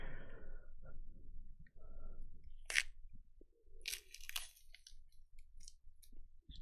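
Crisp crunches and tearing snaps of a pomelo being peeled apart by hand, the rind and segments pulled into a container, close and quiet with short bursts between soft handling noises.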